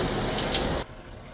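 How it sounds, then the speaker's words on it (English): Cold water running from a shower tap fills most of the moment as a loud, close hiss, then cuts off abruptly, leaving quiet room sound. "I'm going to go ahead and turn the cold water on."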